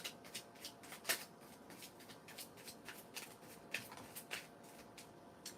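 Animal oracle cards are shuffled by hand close up, giving a quiet run of quick riffling flicks in an uneven rhythm with a few sharper snaps.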